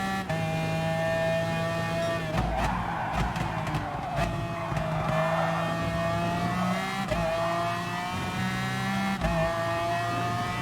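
A race car engine in Gran Turismo Sport drones steadily at high revs with shifting pitch and occasional tire squeals, continuous and fairly close, no voices.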